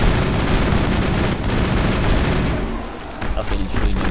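Gunfire in the video game Mass Effect: heavy, continuous weapon bursts and booming blasts dominate, briefly dip, then resume loudly, with occasional speech mixed underneath.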